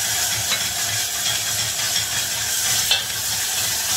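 Garlic being stirred into tarhana soup in a pot makes a soft, even bubbling and simmering hiss, with quiet stirring motions and a faint clink near the end.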